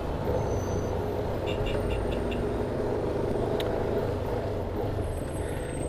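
A car engine runs at a steady idle, a constant low rumble with no change in pace and little exhaust noise. Nearby and continuous, with no voices.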